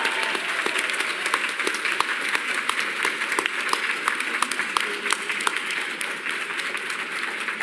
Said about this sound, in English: let's give one more huge round of applause for Koji Soken and Aimi